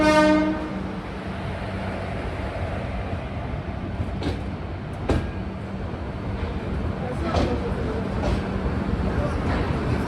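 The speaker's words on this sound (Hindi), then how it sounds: "यहाँ पर ये वापस हम लोगों को ओवरटेक मार के चली गई पुणे जंक्शन के लिए" Lucknow–Pune Express passing at a small railway station, a horn blast at the start followed by loud continuous rumbling and clattering of wheels on rails, with sharp clanks as the carriages roll by close.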